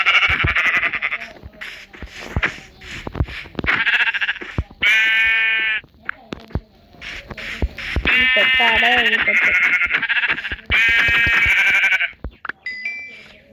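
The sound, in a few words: sheep bleating in Minecraft video game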